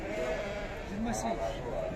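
Lambs bleating at an open livestock market, a few wavering calls rising out of steady crowd chatter and background noise, with people talking nearby.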